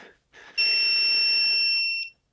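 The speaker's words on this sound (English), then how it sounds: "it will beep when you get a magnetic field" A handheld magnetic field detector gives a single sustained electronic beep of about a second and a half, close and clear, as it is held near a phone attachment, after a brief soft rustle.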